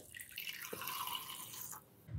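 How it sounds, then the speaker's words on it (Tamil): Thick coconut milk pours into a mixer jar of wood apple pulp for juice, a continuous soft liquid splash and trickle, fairly faint, with a small thud near the start. "டூ ஃபிஃப்டி எம்எல் திக் கோகோனட் மில்க் சேர்த்திக்கலாங்க தேங்காய் பால்"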